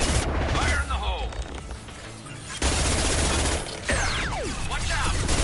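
Sustained gunfire and heavy impacts in a Mass Effect Legendary Edition battle, dense crackling shots with louder booming hits at a few moments, close and continuous, with a brief voice mixed in.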